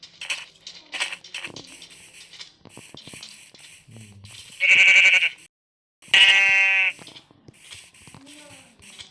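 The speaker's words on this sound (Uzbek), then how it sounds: "Ana yerda yana qo'ylar bor ekan." Minecraft sheep give two loud, distinct bleats in the middle of the game, between stretches of lively talk from several players.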